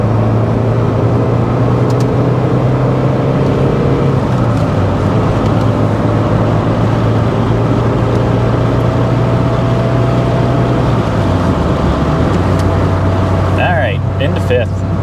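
A 1985 Toyota Celica GT-S drones steadily from inside the cabin on the road, the engine note dropping at gear changes amid constant wind and road noise.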